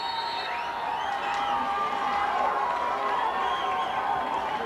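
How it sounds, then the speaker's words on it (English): Steady roar of a boisterous soccer crowd at Varsity Stadium on a night match, a broad distant wash of voices and cheering with a commentator talking over it throughout. "we've got a nice boisterous group of people here on a perfect night for soccer at Varsity Stadium"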